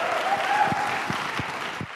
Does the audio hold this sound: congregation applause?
yes